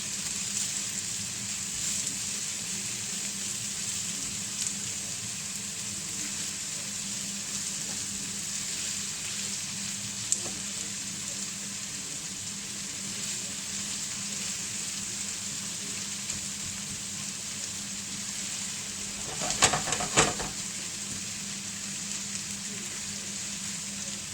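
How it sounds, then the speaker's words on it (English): Onions frying in a pan for a large batch of tarka dal give a steady, even sizzle throughout, with a brief clatter near the end and no talking. "Just fry the onions for a couple of minutes"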